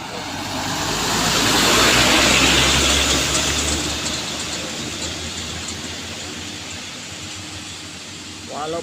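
A heavily loaded vehicle climbs the steep Kedabuhan hill in heavy rain, its engine swelling loud and close in the first seconds, then holding a steady strained roar beneath continuous rain and road noise, with a voice talking over it.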